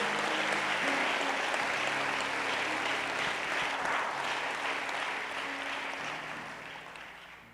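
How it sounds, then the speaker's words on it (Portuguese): A church congregation at a conference applauds in a sustained wash of clapping that slowly fades over several seconds, with faint voices underneath. "Pode aplaudir o Senhor nosso Deus."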